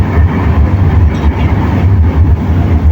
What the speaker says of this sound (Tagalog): Ang tren.